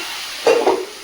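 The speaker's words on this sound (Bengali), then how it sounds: "ভালো করে কষিয়ে নিচ্ছি সবজিটা, ঢাকা দিয়ে দিয়ে এরকম ভেজে নেবো।" Vegetables being stir-fried in a pan give a short, close burst of sizzling and frying in the middle, with softer background noise before and after.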